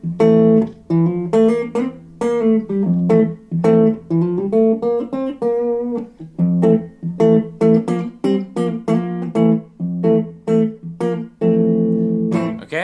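An electric guitar plays short riffs built from one chord shape with double hammer-ons, giving loud, close, rapid melodic phrases with brief pauses between them.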